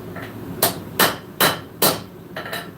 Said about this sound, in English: You don't want to be sitting there hammering on one side on the ground.